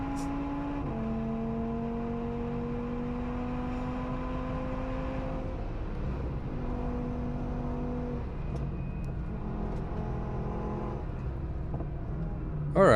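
A small Audi fitted with a big engine runs a lap of the Nürburgring, its engine note droning steadily and shifting pitch through gear changes, heard from inside at a constant, moderate level with no talk.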